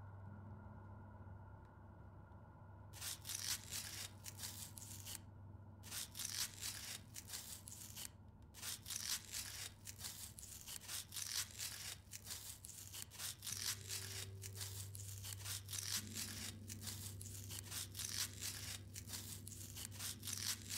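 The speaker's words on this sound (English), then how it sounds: "We must cut him open." Cutting open a body in the Autopsy Simulator video game: repeated dense, crisp bursts of cutting and tearing over a steady low hum, continuous through the clip with brief pauses.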